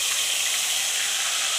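Ground onion paste dropped into hot oil already crackling with cinnamon, fennel and cumin gives a steady, loud hiss and sizzle that holds evenly throughout, with no talking.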